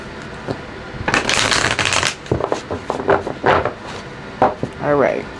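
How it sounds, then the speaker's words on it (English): A deck of tarot cards being shuffled by hand in bursts of riffling and flicking, close and fairly loud, with short pauses between the shuffles. "One more shuffle."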